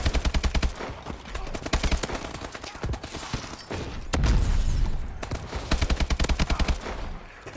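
AK-12 assault rifle fire in the video game Advanced Warfare, rapid automatic bursts in several rhythmic runs, loud and close, with a booming blast and game noise between bursts.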